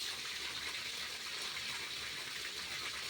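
Water pours and gushes steadily at a Mahadev temple, a continuous, fairly faint wash of sound with no breaks.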